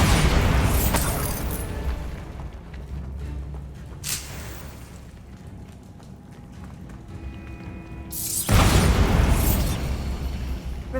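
Bombarda blasting spell cast in the Hogwarts Legacy video game, two loud booming bursts opening and closing a stretch of rumbling ambience with softer pops between.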